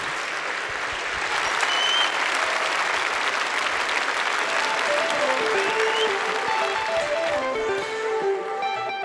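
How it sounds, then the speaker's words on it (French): A large crowd at a graduation ceremony in the Zénith hall claps steadily and loudly throughout, a dense sustained wash of applause with scattered louder hand claps. "je crois que vous pouvez vous applaudir"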